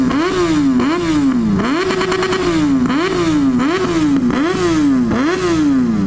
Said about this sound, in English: Yep, sounds like a bike.